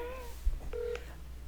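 Telephone keypad tones sound close and clear: a short series of dialing beeps with a brief click, over a faint low hum.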